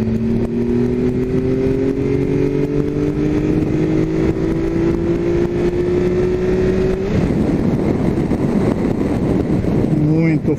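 A Triumph Tiger 1200 Alpine Edition motorcycle engine revs steadily upward in fourth gear under a rising drone, then gives way to rougher wind and road noise near the end.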